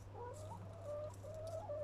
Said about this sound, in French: je vous montre un peu les poules